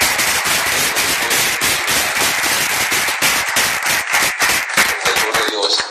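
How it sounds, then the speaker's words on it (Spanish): Church congregation applauding together after a deliverance testimony, with dense, loud clapping that runs steadily for about six seconds. "Un aplauso a Cristo."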